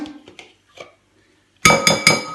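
A metal spoon dips into an open pot of cream for a ham and potato quiche, with soft faint handling followed by three bright, ringing clinks in quick succession close by.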